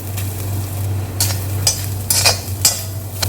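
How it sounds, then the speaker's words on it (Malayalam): Grated coconut frying in coconut oil in an iron pan over low heat, a continuous sizzle with several sharp spatula scrapes and stirs breaking through near the end. "ഇത് നമുക്കൊരു ഗോൾഡൻ ബ്രൗൺ ആകുന്നത് വരെ വറുത്തെടുക്കാം"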